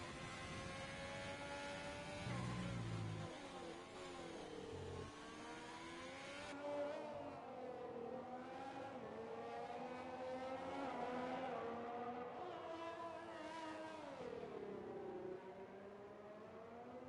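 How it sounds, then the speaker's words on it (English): An Alfa Romeo Formula 1 car on a flying lap in the F1 2020 video game, its engine screaming and rising and falling through gear changes and corners, loud and continuous with no talk. "So Leclerc starting the final a flying lap in the Alfa Romeo."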